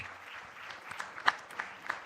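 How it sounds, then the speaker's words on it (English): An audience at an all-India competition event applauds to welcome the finalists: faint, scattered hand claps with a few sharper individual claps standing out. "Let's welcome them with a round of applause."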